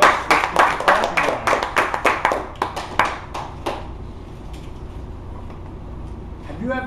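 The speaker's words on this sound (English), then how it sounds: "Let's keep the clapping" An audience claps in a quick, fairly even rhythm, the claps close and crisp at first and then thinning out and fading to a few scattered claps before quiet room tone takes over.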